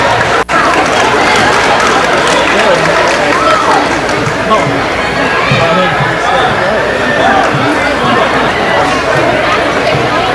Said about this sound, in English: Give those kids a big round of applause as they go.